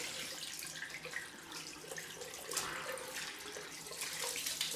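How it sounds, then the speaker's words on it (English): Cold water runs steadily from a bathroom tap, a continuous hissing splash into the sink that stays close and even throughout. "Get some cold water out of the tap."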